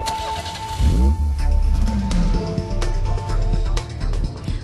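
A car with Bosch direct fuel injection cruises relaxed along a country road at low speed, its engine a steady close hum with a slight rise in revs after the first second.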